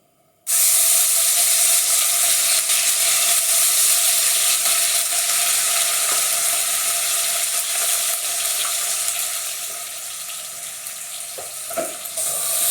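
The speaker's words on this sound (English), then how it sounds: "Stir that around half a minute until the sizzling dies down." Loud, steady sizzling as about 3 tablespoons of ginger garlic paste drop into hot oil for chicken phaal, a bright crackling hiss that starts abruptly and eases slightly toward the end.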